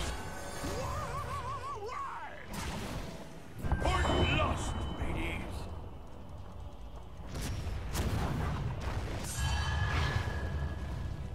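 Cannon fire and crashing impacts from the video game Heroes of the Storm, several sharp booms and smashes mixed into busy game sound with music and voices throughout.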